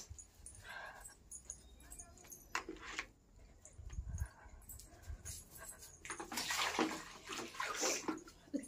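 Water pours into a tub during washing, a soft running and sloshing stream heard faintly and fairly close, with a dog panting and whimpering nearby and voices talking at times.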